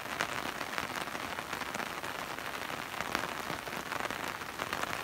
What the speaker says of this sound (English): You hear the rain on my umbrella?